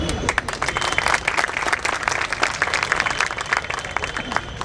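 Sustained applause from an audience at a dental college event in Indore, with dense rapid clapping that stays loud and steady throughout, a crowd murmur faintly underneath.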